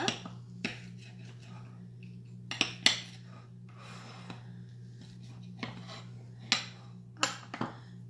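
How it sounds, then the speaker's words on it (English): Pizza cutter rolling through a chicken parmesan pizza on a plate, giving scattered sharp clicks and scrapes against the dish over a steady low background hum, with several louder clacks spaced irregularly. "I'm going to take my pizza cutter here, and cut this up just like I would cut up a little personal pan pizza."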